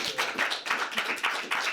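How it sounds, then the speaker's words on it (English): Brief applause after a workshop presentation, a few loud, distinct hand claps in a loose rhythm from a small group, close by, with no talk over them. "I'd like a big applause."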